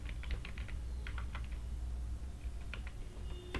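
Quick, light keystrokes on a laptop keyboard come in uneven bursts of clicks over a low steady background hum.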